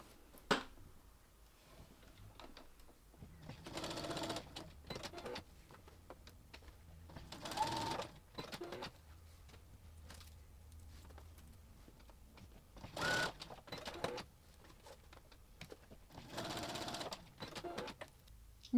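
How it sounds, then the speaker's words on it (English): A home sewing machine stitches fabric strips together for a Christmas advent chain, its quiet motor running in several short bursts with soft pauses and handling noises between them. "Then we'll go ahead and sew that on."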